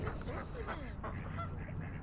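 Geese honk repeatedly at a park pond in Woodward Park, several overlapping calls rising and falling over a steady outdoor hum, moderately close.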